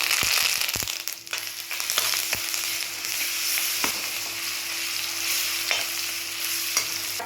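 Cumin, cloves, cinnamon, garlic paste and curry leaves fry in hot oil in a kadhai, giving a loud, steady sizzle broken by sharp scraping strokes of a spoon stirring against the pan, close up and with no talking.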